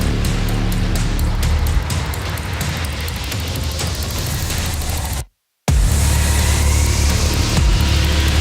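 The engine of a 2020 Toyota Supra sports car, built with BMW parts, makes a loud, steady roar. A brief cut breaks the sound partway through, and then it carries on at the same level.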